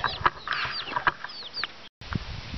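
A small bantam rooster clucks repeatedly in short, chirpy bursts close by, with a brief gap of silence before a few more clucks.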